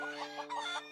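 Cartoon chickens clucking in a quick run of short, bright bursts, close and fairly quiet, with a faint crow-like note among them.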